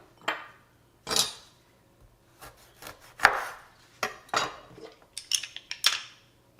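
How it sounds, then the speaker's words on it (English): A lemon sliced with a knife on a cutting board for a fresh nopales salad: a series of about a dozen crisp, separate chops in an uneven rhythm, close and clear, with no talking. "I'm slicing 1 lemon"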